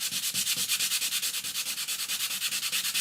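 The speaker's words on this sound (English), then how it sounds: "so I'm going to give it just one quick sand." Hand sanding the back piece of a computer sign, a steady run of quick rhythmic rasping strokes, close and fairly loud, about a dozen back-and-forth passes with no voices.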